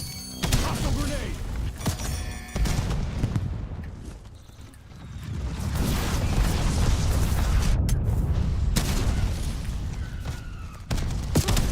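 A grenade blast in a shooter video game, a loud booming explosion with crumbling debris amid continuous gunfire and game noise, with someone talking over parts of it.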